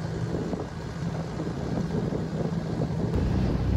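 A boat engine with a water leak runs during a river boat trip, a steady low drone under gusty wind buffeting the microphone, with no speech.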